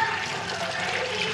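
Water runs and trickles off fish being prepared for cooking in a home kitchen, a brief, close, steady splashing patter.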